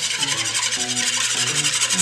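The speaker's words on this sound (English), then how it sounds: "So I'm gonna whisk that together, break the yolks." Whisk beating egg yolks with vanilla and lemon extract in a bowl, a steady rapid scraping swish that repeats in quick even strokes throughout.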